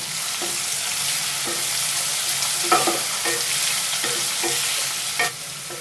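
Onions and green chilies fry steadily in a hot pan, a continuous sizzle broken by several short scrapes and clinks of a spatula stirring, close and moderately loud with no talking.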